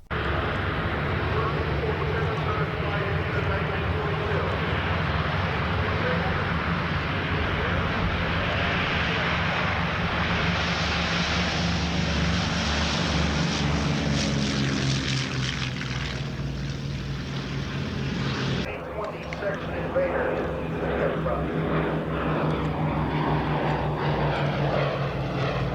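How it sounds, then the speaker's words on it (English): An On Mark B-26K Counter Invader, a heavy piston-engined propeller warbird, drones past at an airshow with a broad, loud engine roar that swells and fades, under a narrating voice. "The original B-26 Invader had the second longest frontline wartime service of any heavy piston propeller warbird."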